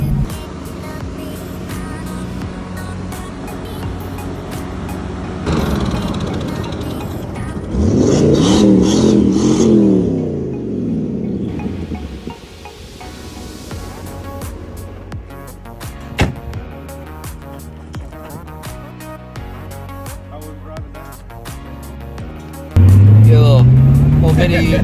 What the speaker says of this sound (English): I'm on my dad's road, about to drive up to the house.